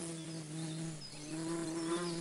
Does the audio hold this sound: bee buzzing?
yes